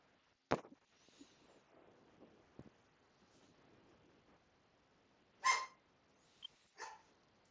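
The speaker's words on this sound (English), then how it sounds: "What you barking at?" A few sharp, short dog barks at a distance, scattered with long quiet gaps between them, plus faint wind.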